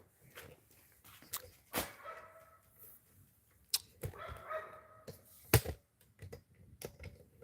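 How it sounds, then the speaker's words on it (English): A dog barks a few times at a distance, scattered among sharp clicks and taps close by, with quiet gaps between the sounds. "The dog's barking."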